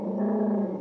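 A dog growls at a reflection in a window, giving one low, steady rumbling growl held for under a second, close and fairly quiet with no talking over it.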